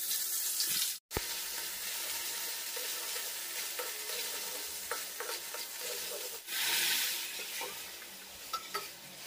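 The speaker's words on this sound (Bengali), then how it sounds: "এবার কিন্তু আমি ডালে ফোড়ন দিয়ে দেবো।" Spices tempered in hot oil sizzle loudly as they are stirred into cooked mung dal, a steady bright hiss with a brief cutoff near the start and a surge of sizzle partway through.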